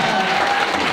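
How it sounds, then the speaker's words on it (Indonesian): Audience applause at a debate event, a dense, continuous patter of clapping from a crowd, brief and fairly loud. "Oke, beri aplaus untuk kita semuanya."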